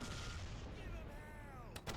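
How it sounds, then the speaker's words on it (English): Distant booming mortar fire in a World War II video game rumbles over a dense, low roar, with a couple of sharp cracks near the end. "let's look at some of the mortars. They sound awesome"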